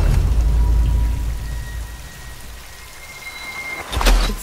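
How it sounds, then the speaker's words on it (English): Heavy pouring rain falls at a cemetery, a dense continuous hiss of drops with a low rumble underneath, steady throughout, then a brief louder burst near the end. "At the cemetery, it was still pouring rain."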